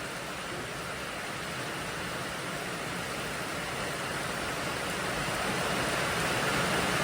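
Steady rain falling during a storm in Laos, a continuous even hiss of drops that holds at a constant, moderately close level and swells slightly toward the end.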